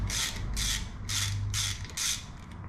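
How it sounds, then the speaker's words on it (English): Two nuts or bolts being tightened against each other on the end of a stud from a 1973 Harley Shovelhead 4-speed transmission, five rapid ratcheting bursts in a steady rhythm, close and clear with no talk. "you put 2 bolts on the end, tighten them together, and the stud will come right out"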